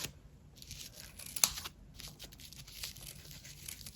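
Close, quiet snipping and tearing of paper as scissors cut it into strips, a few crisp cuts with one sharper snap in the middle, no voices.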